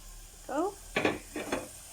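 A spoon stirs sizzling aloo paratha potato filling seasoned with curry powder, chili powder, turmeric and cumin in a pan, giving three quiet, short scraping strokes over a faint background sizzle.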